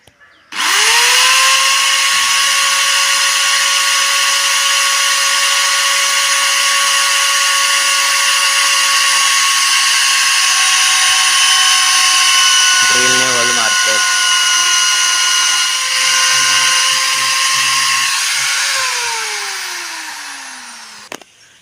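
A powered saw runs during work on an old mud house in a village: a loud, steady motor whine that spins up at the start, holds with a brief break near the middle, then winds down at the end.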